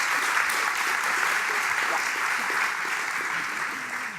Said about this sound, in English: I would like to ask for a warm applause for Nina.